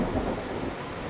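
Thunder rumbles low and continuous as rain approaches outdoors, a dull broad roll filling the brief moment.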